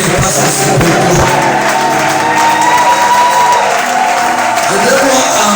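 A church congregation at a year-end retreat cheers, whoops and applauds loudly, a dense roar of clapping and shouts with a voice rising over the crowd throughout.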